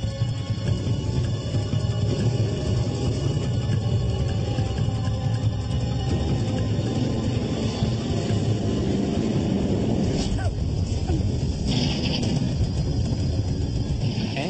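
A CRJ regional jet airliner takes off on a runway, its loud jet-blast roar continuous and steady for the whole stretch, with no voices.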